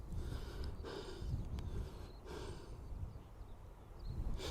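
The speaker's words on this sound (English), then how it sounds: "Sorry about my heavy breathing." Heavy, labored breathing of a hiker on the South West Coast Path in South Devon, with several loud puffing exhales close to the microphone over faint outdoor wind.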